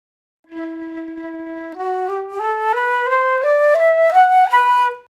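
A flute plays a rising run of held low notes using a middle-range embouchure, a bit breathy and slightly wavering, moderately loud and alone.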